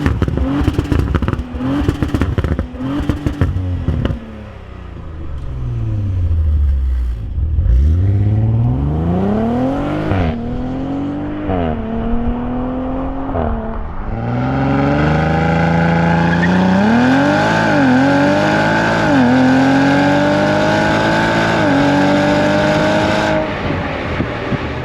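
An Audi RS5 launching hard with launch control: a revving, crackling engine builds, drops, then climbs through sweeping upshifts as the car accelerates away, loud and close throughout.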